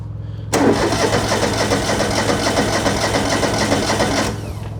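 A small engine on a restored machine, run at half choke, catches abruptly and settles into a steady, buzzy idle for several seconds before cutting back, close and loud with no talk.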